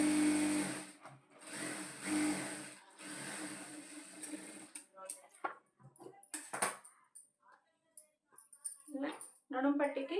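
Sewing machine running in bursts while straight-stitching and joining piping strips for a blouse, the motor whirring loud and steady for several seconds, then stopping into quieter handling noises and short restarts.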